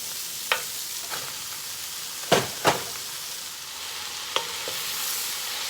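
Cabbage stirred in a pot over medium heat gives a steady low sizzle, with a few sharp scraping clicks from stirring, including a pair of louder ones in the middle, and no talking.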